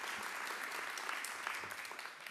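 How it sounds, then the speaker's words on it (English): An audience at a ribbon-cutting celebration claps in a steady, dense round of applause that fills the room, close and fairly even throughout. "How about another round of applause to our Assistant Commissioner of Health"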